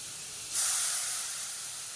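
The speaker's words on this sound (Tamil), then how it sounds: "இப்போ இந்த மசாலாலாம் நல்லா எண்ணெயில் வதங்கினதுக்கப்புறம் இதில் வந்து நான் தக்காளி வந்து சேர்த்துக்கிறேன்" Tomato dropped into hot spiced oil sets off a sudden loud hiss about half a second in, which then slowly eases into a steady sizzle, close up with no talking.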